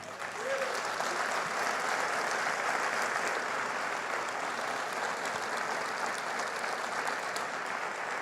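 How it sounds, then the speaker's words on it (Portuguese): A church congregation claps steadily together during a worship service, a dense, sustained wash of applause that fills the room at an even loudness from start to finish, with no speech over it. "erga as mãos e aplauda o Senhor com força e alegria"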